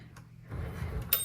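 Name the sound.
typewriter margin bell ringing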